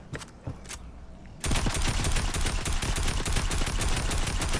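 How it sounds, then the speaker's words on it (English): Rapid automatic gunfire from a Fortnite match bursts in and keeps up as a loud, dense, continuous volley after a quieter start with scattered shots. "my uncle is trying to shoot everything down"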